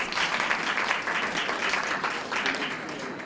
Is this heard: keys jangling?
no